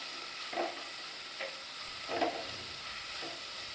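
Onions with salt sautéing in a pan until golden for Chettinad chicken masala, a faint steady sizzle with a few soft scraping stirs spaced apart, quiet and without any voices.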